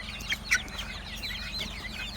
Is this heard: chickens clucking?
yes